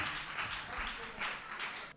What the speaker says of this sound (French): Merci, sous vos applaudissements.